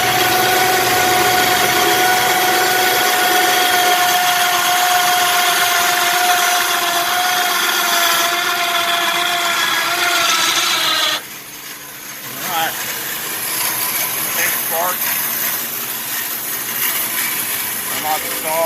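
A table saw resaws a board on a Franklin sled, a loud steady whine with grinding wood noise that drops abruptly partway through as the cut finishes and the blade runs on more quietly.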